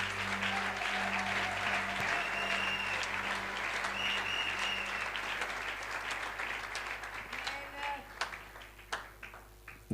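A church congregation bursts into loud, sustained applause and cheering for the Lord, dense and continuous at first, then thinning into scattered individual claps toward the end.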